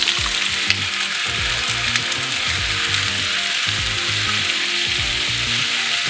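Sliced apples sizzling and frying in nutty golden-brown butter in a pan for hand-held apple pies, a loud continuous crackle with stirring and pan scrapes, no talking.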